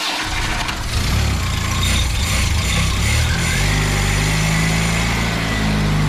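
A cold car engine with no coolant and a poorly working choke idles nearby, loud and continuous, its rumble settling into a steadier, lower hum partway through, with no voices.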